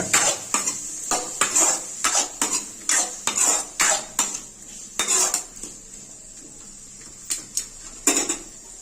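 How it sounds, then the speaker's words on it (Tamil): A metal spoon scrapes and clanks repeatedly against a pot of black-eyed pea curry in an irregular stirring rhythm, close and loud, with brief pauses between strokes. "எல்லாம் மிக்ஸ் ஆகிற அளவுக்கு நல்லா கிண்டிக்கங்க."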